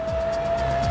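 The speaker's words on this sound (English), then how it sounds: "Paul and Mags are racing down the highway in their convoy of trucks." Trucks in a long-haul convoy race along a highway toward Los Angeles, a steady loud engine drone with a sustained tonal whine and passing swells, no voices.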